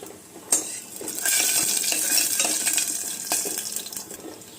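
Dried red chili pieces and garlic frying in oil in a pan for a fried dal tempering, with a close, continuous sizzle and a few metallic clinks and stirring scrapes throughout.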